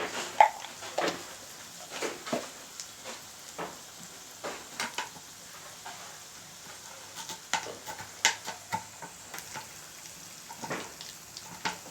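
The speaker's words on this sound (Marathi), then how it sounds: "हिंग टाकण्यापूर्वी मी थोडंसं ते टेम्परेचर कमी व्हावं म्हणून त्यात थोडंसं गाजर टाकलं" Carrots tipped into hot oil in a pan on the stove, giving a soft, steady sizzle with scattered clinks and scraping as they are stirred, close and without voices.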